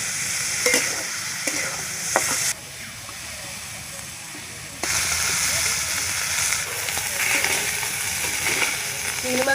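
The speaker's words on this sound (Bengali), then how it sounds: "চিংড়ি মাছটা ভালো করে ভাজিয়ে নেব।" Prawns fry in mustard oil with salt and turmeric in a village kitchen: a loud, steady sizzle and hiss, with clicking stirs, dipping quieter for a couple of seconds midway before surging back.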